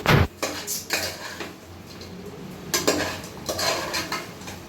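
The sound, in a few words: quail roasting and stirring in a kadai pan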